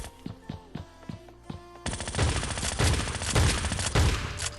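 Gunfire in the mobile shooter Scarfall 2.0 starts as a few spaced single shots, then breaks into a loud, sustained automatic burst with dense, rapid, continuous firing.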